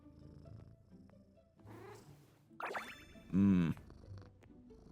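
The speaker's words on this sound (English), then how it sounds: "I love the purring. Purring is so therapeutic." A cat in the game Genshin Impact purrs loudly while being petted, a rumbling purr rising near the end after a couple of short calls, with a brief spoken exclamation.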